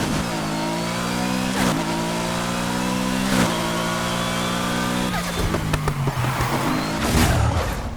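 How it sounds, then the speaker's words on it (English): A BMW M3 GTR engine in the racing game Need for Speed Heat revs hard and loud, climbing repeatedly with quick shift breaks roughly every two seconds, then bogging and rising again amid faint tire noise. "Now let's have another listen to the Heat M3 Gtr."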